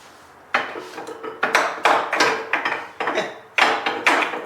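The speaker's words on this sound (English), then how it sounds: "Wonder if I tap it with a little hammer" Sharp metallic taps ring out in irregular bursts, a small hammer striking a starter motor on a Kubota about a dozen times, each with a short ringing decay.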